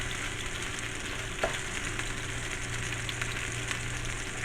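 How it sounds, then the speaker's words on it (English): Salmon fries in a hot pan, blackening on both sides, with an unbroken, close, moderately loud sizzle and one brief knock near the start, no talking. "I'm gonna go ahead and I'm gonna put my salmon in"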